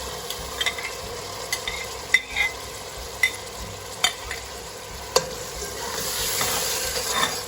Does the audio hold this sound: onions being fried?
yes